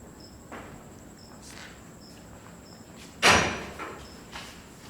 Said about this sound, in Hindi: दरवाज़ा भी खुल रहा है।